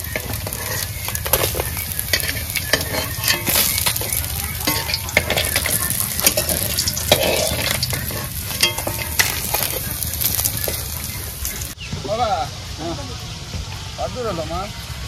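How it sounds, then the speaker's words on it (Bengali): Fish frying in a pan outdoors, a loud continuous sizzle and crackle with stirring clatter that drops away near the end as voices talk. "মাছ ভাজা চলছে।"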